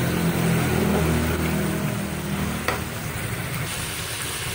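Chicken pieces sauté in a pan for caldereta, browning after the liquid has cooked off. A steady, loud sizzle and crackle runs throughout, with one sharp stir or scrape partway through.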